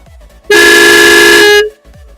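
Loud, steady horn blast from a PRM horn made for lorries and buses, a single close tone held for just over a second with quiet background around it.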